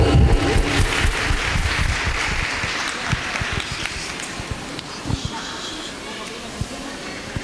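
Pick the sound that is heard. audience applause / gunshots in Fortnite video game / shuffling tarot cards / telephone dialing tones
audience applause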